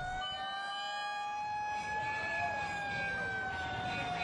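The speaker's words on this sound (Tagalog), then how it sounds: "kasama mga fire truck na nagpatunog ng kanilang sirena" Fire truck sirens wail through Manila streets on the eve of New Year, warning residents, a sustained rising and falling siren tone at moderate distance over steady street noise.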